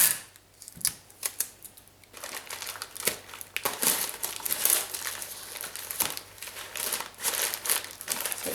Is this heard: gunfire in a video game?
no